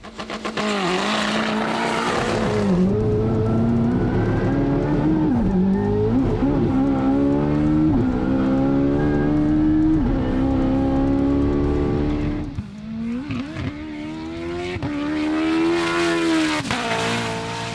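A roughly 920 rear-wheel-horsepower race car engine revs hard and climbs through the gears on a runway, a loud sustained roar with rising and falling pitch, close by.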